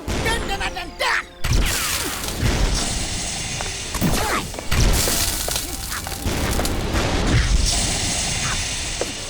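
A cartoon sleep bomb fired in an animated action scene, heard as booming, crashing blasts with mechanical clatter in a dense, loud mix. Voices call out between and over the impacts.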